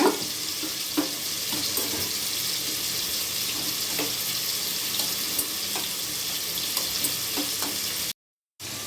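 Meal maker soy chunks washed under running tap water in a kitchen, a steady hissing stream with small splashes and stirring, no talk.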